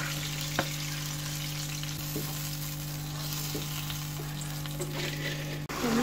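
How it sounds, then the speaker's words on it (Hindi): Cloves and small green cardamom fry in a pot for a mutton and potato salan, a soft continuous sizzle with a steady low hum beneath and occasional light clicks of stirring, close and without talk. "और तकरीबन 4 में जो है वो लौंग डालूँगी, और 3 जो है वो छोटी इलायचियाँ डालूँगी। इनको अच्छे से फ्राई करेंगे।"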